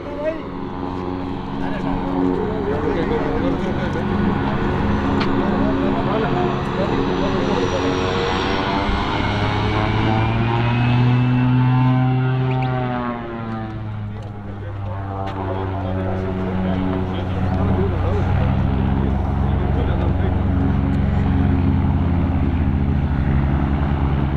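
A minister's fixed-wing airplane at an airstrip after landing, its engine droning loud and close in a steady roar that swells and dips in pitch, with people talking underneath.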